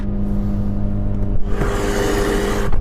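A car engine drones loudly nearby, then surges into a harsher, higher roar as it revs, with no voices.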